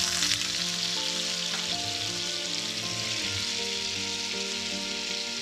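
Oil and butter sizzle steadily in a frying pan, ready for searing steak, a dense continuous hiss with soft crackle holding at an even level for the whole stretch, with no talking.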